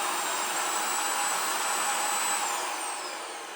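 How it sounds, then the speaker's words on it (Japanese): A vacuum cleaner runs close by with a steady, loud broadband whine and a high tonal hiss, holding constant before easing slightly toward the end; cats are nearby, and no voices are heard. "このように掃除機の音にもちょっとビビりが減ってきた青バカでした。"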